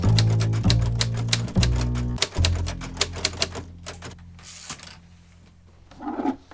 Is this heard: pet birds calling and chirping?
no